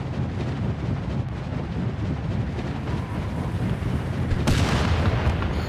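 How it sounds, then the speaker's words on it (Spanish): A cannon fires in the Sausage Man shooter game on Android, a loud booming blast over a constant rumbling background, with a brighter burst near the end. "Me puedo disparar con el cañón"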